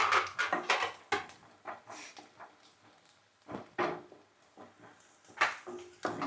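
Tomato thokku with turmeric is stirred in a pan, a spoon tapping and scraping in irregular close clicks and knocks without any steady sizzle behind it.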